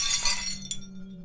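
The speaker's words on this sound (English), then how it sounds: "I grabbed my bedside lamp and smashed it over the thing." A bedside lamp smashes and its glass shatters in one bright, loud crash, with glittering fragments trailing off and a steady low hum underneath.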